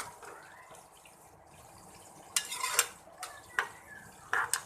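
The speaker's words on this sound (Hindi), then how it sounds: "अच्छे से इसको भुनेंगे ताकि ऑनियन का जो पानी है वो भी ड्राई हो जाए और ये ऑनियन सॉफ्ट हो जाए।" Onions are stirred and sautéed in a pan while stuffed bitter gourd cooks beside them. Soft, faint sizzling runs under several sharp scrapes and clinks from the spoon against the pan.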